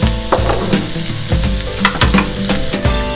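Ngohiong filling of jicama frying in a pan, a loud close sizzle with repeated rhythmic scrapes and clatters of stirring.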